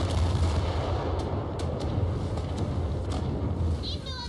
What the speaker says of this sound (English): those guns would not be able to fire that quick